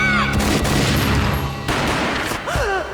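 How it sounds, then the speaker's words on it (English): A burst of gunfire in the Max Payne video game, a dense, loud fusillade of shots under rumbling noise and tonal sweeps. "A gunshot boomed and she fell down in slow motion."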